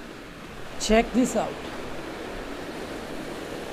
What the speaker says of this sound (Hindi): अब ये सिर्फ पानी का शोर है और ये हर वक्त होता रहता है, रुकता ही नहीं है